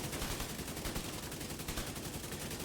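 Rapid automatic rifle fire from the TKB 408 and King Breaker in The Division 2, a dense, continuous rattle of shots at moderate, even loudness.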